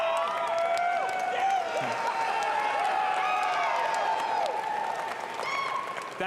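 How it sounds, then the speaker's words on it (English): Fans clapping and cheering at the Bethesda E3 2019 showcase, steady loud applause from a large indoor crowd with whoops and yells rising over it throughout. "actual fans clapping, and they're not paid actors to clap and yell at these people"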